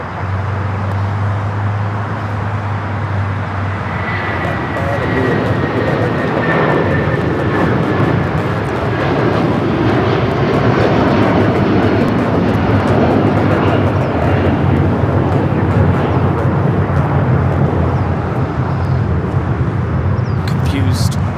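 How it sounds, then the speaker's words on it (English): A United 757-300 jet airliner taking off, a loud sustained engine roar that builds and holds across the whole stretch, with a person talking over it. "Next takeoff, United 757-300 off to Chicago."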